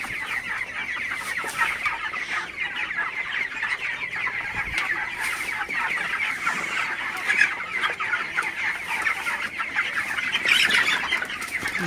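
A flock of broiler chickens clucks continuously, many birds calling over one another in a steady, busy din at close range, after drinking Ranikhet (Newcastle disease) second-dose vaccine water, with occasional wing flaps.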